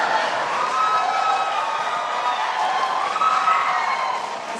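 A live audience at the 2016 first presidential debate at Hofstra claps and cheers in a sustained, dense wash of applause and crowd noise, fairly loud and without a break.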